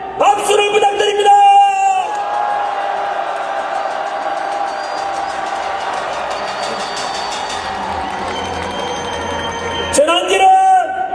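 Rally crowd on Geumnam-ro in Gwangju cheering and roaring with applause, a sustained loud wash of voices and clapping that swells at the start and end; a voice speaks over the opening.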